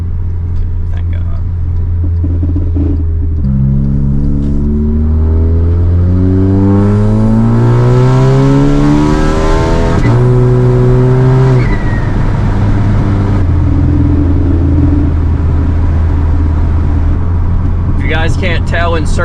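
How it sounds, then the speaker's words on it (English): Volkswagen MK6 GLI tuned to about 400 hp, its engine and exhaust droning steadily while driving, with rising revs through the gears and a low rumble, heard close from inside the car. "in certain gears my exhaust also tends to rattle a lot when I let off the gas pedal"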